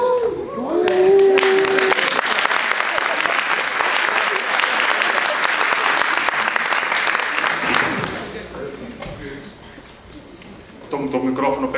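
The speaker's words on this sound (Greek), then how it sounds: "Το μικρόφωνο παίρνει περισσότερο χειροκρότημα από μένα." Dense applause from a live audience swells up near the start and holds loud and steady for about seven seconds before fading, with a speaking voice heard just before and returning as the clapping dies away.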